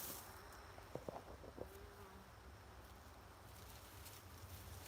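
Bees buzzing in the shade beside a pond, a soft steady insect drone over a faint outdoor hum, with a few brief nearby buzzes passing close early on.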